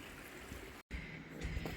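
A small stream trickles beside a walking path in Bergen, Norway, a steady, soft, rushing wash of water heard close by with a brief dropout partway through.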